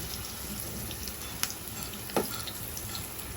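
Potatoes fry in a pan, a steady sizzling hiss with a couple of sharp pops and crackles, alone and close.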